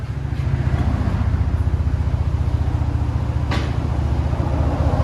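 A Chevy Silverado with a 4.3 V6 and Kooks exhaust idles as it backs out, a loud, close, steady low rumble with an even pulsing burble throughout.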